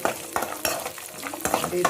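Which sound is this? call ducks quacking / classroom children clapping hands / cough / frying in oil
frying in oil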